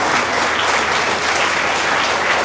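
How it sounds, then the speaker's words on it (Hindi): A crowd at an institute get-together applauds colleagues being honoured, with dense, steady clapping that stays loud and even for the whole stretch, with no voices over it. "आपको लगता है उनके लिए तालियां होनी चाहिए"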